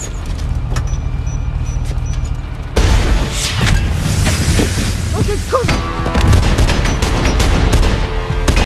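A small bomb bursts beneath a car in an action film scene, a sudden loud boom cutting in over a low rumble, followed by crackling debris and further sharp bangs.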